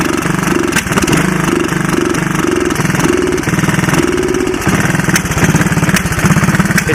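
A 1985 Honda ATC 200S three-wheeler engine running close and loud, a steady mid-pitched putter with a slightly uneven idle that rises and falls, alone without talk.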